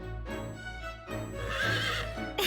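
A horse in Fire Emblem Warriors: Three Hopes lets out a loud, drawn-out whinny with a shaky, rising and falling neigh, heard up close with no talking.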